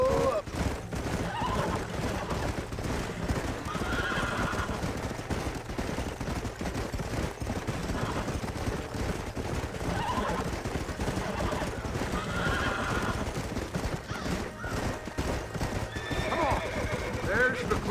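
Horses in the video game Red Dead Redemption clip-clop at a gallop and neigh repeatedly, with bursts of gunfire in the mix and characters talking over the steady hoofbeats.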